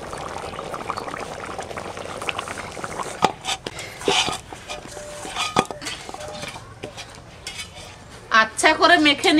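Potato curry with peas is mixed in a pot, giving irregular clinks and scrapes of a utensil against metal over a low bubbling simmer, with occasional louder knocks near the end.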